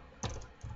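Brief quiet clatter of keys as a command is typed on a computer keyboard running Windows 8, two or three soft close taps with nothing else.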